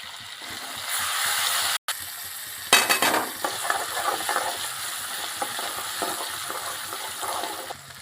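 Ginger-garlic paste and green chillies frying in oil for pav bhaji, a steady close sizzle with scraping and stirring clinks, a brief dropout near the start, then fizzing resumes with spoon-on-pan scrapes.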